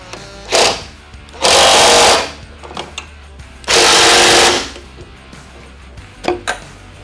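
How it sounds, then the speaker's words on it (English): An impact driver tightens the bolts of a single-light modular bumper mount on a 2021+ Ford Bronco, firing two loud, close bursts of roughly a second each, with short clicks and taps between them. "We're using an impact. You can use a hand ratchet if needed."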